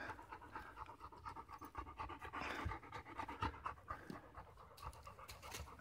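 A thirsty coonhound pants close to the microphone on a hot Appalachian Trail hike, quick steady rhythmic breaths repeating throughout, fairly soft and with no talking.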